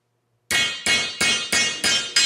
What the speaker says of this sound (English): hammer it down flush